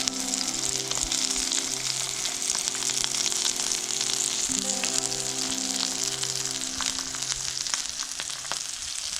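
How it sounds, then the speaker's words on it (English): Stocked trout frying in a pan over a creekside cooking setup, a dense continuous sizzle and crackle with scattered pops, close and steady throughout, over a faint background hum. "This trout here is just about done. It's got 3 or 4 more minutes on the pan"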